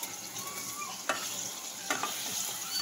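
Lobster frying in a pot, with a steady bright sizzle throughout and a couple of sharp crackling pops as pieces settle, close and moderately loud with no talk.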